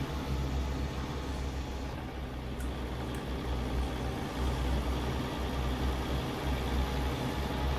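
Cat 3406-C diesel engine in a Peterbilt-style truck in American Truck Simulator, a deep, steady rumble idling and pulling low with the windows down, heard alone without talk for the whole stretch.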